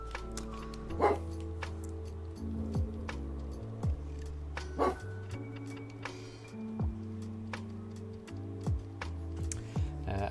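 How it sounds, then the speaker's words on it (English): A dog barks off to one side in a few short, sharp bursts spread across the stretch, heard over a steady background of electronic game music with a regular ticking beat. "Apologies for Daruk's barks there"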